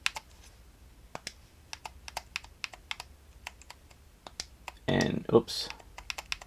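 Rapid plastic keystrokes on a small keyboard type out a search on a Regiis Joy wireless portable arcade, clicking in close irregular bursts, with a short burst of louder handling noise and a brief spoken remark near the end.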